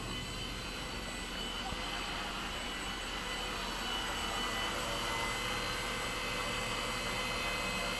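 Ares Nanos FP75 micro drone motors held at full throttle, a loud steady high-pitched whine and whir with no pauses, close up.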